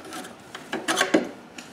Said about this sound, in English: Now you can grab the whole hose and just take it right off.